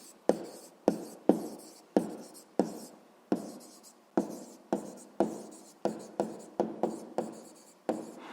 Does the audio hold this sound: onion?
no